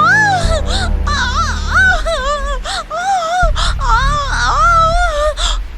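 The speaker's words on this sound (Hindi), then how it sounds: "माधवी की दर्द भरी चीखें और रोने की आवाज कपिला सुनती है" A woman wails and sobs loudly in pain, her crying voice rising and falling in long, strained cries with brief gasping breaks.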